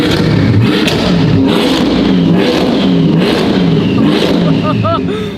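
A car engine idles steadily with brand-new spark plugs fitted. It keeps up a loud, continuous, close rumble with slight rises and dips, and voices speak over it.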